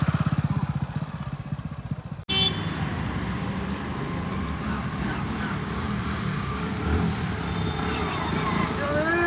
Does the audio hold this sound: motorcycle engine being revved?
yes